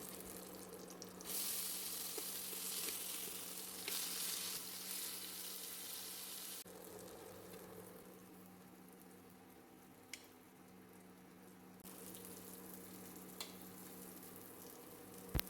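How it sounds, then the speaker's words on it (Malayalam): Slices of brinjal fry in hot oil with a continuous, fairly quiet sizzle, briefly louder early on, then a steady crackling hiss with occasional faint clinks. "ഇനി റൗണ്ട് ഷേപ്പിൽ കട്ട് ചെയ്തെടുത്ത കത്രിക്കയും കൂടി വറുത്തെടുക്കാം"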